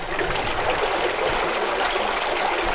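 Steady trickling water from a spring below a forested hillside campsite, a continuous close, even wash of flowing water with no voices.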